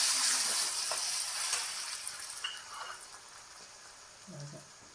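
Chopped tomatoes go into hot oil with spice masala for a sev sabzi, giving a steady close sizzle and frying hiss that slowly eases, with faint stirring touches.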